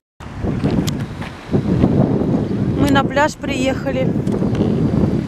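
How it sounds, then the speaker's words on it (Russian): Strong wind buffets the microphone in loud, rough gusts while a person speaks over the roar. "ветер страшный."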